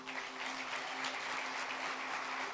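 A church congregation claps in sustained, dense applause, a continuous wash of many hands at a moderate distance, with a faint tonal hum beneath and no clear voices.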